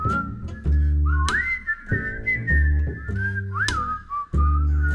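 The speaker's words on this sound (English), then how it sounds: "Everybody whistle." An audience at a live concert whistles together in several long rising and falling bursts, loud and close, with brief pauses between them and no talk over the top.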